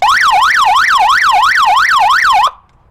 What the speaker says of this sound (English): It says siren.